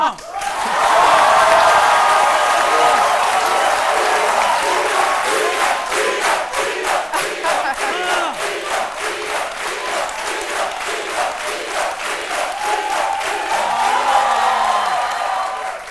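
A studio audience at a French TV show applauds and cheers loudly and steadily, with rhythmic clapping, whoops and crowd shouts running throughout.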